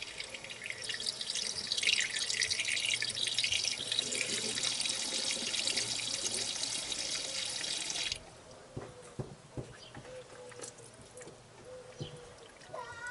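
Coolant gurgles and trickles in the cooling system of a Ford Ranger B2500 as trapped air bubbles escape, a steady close watery rush that drops off after about eight seconds into fainter, sparse drips and bubbling.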